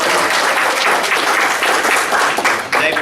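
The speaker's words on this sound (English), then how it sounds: "Let's give Fred a round of applause." A Rotary Club meeting audience applauds their door greeter, a dense, steady wash of many hands clapping at close range that holds for about three seconds, dipping briefly near the end.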